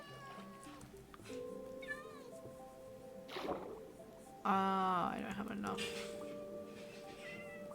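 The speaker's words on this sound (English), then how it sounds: "I can hear loads of meowing, so I think that I did see a cat." Cats meowing in the video game Minecraft, several rising and falling mews scattered through the clip, one louder and closer than the rest, with a person talking briefly over the game sounds.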